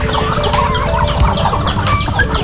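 Native chickens cluck and chatter continuously on a mixed poultry farm alongside ducks, turkeys and geese, with overlapping calls from many birds close by and a steady farmyard background.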